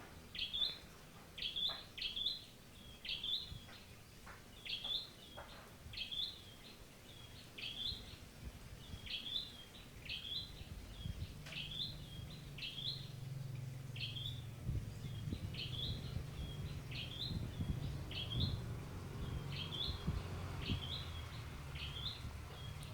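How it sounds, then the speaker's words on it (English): Birds chirp outdoors in a steady, regularly repeating series of short high calls, faint and somewhat distant, over quiet background noise that grows into a low rumble partway through. "Oh, the birds have joined us."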